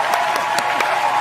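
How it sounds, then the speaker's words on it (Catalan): Canned applause played as a sound effect on cue, a steady wash of many hands clapping throughout the short burst, loud and close with no voices over it. "posa això dels aplaudiments"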